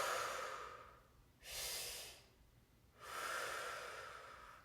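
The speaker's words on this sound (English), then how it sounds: "Big breaths here." Deep breathing during a lower-body fascia stretching exercise: two slow, loud breaths with a pause between them, heard close and on their own with no talking.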